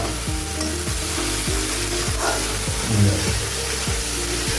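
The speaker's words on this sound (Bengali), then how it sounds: "মশলাটা দিয়ে ভালো করে মশলাটা ফ্রাই করে নিতে হবে যতক্ষণ না মশলা থেকে তেল ছাড়ছে" Spice paste of ginger, garlic, onion, tomato and cashew fries in oil with a loud steady sizzle, while rhythmic scraping strokes of a spatula repeat roughly every half second.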